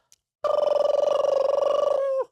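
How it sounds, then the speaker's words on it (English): A steady buzzing, warbling LTC timecode signal with a rapid regular pulse, lasting about two seconds and cutting off abruptly. "So basically, it's an encoded signal of timing reference."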